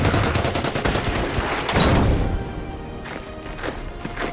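Rapid bursts of gunfire from a bunker in the strategy game Order of Battle, set in the Winter War on the Karelian Isthmus, loud and continuous for about two seconds before fading into scattered, quieter shots.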